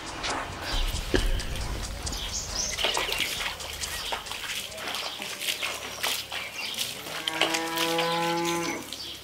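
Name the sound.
cow mooing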